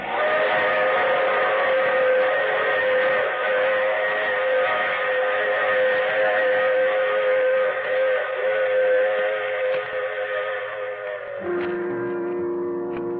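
A long, sustained steam train whistle sounds loudly and steadily, its pitch shifting slightly near the end, with no voices.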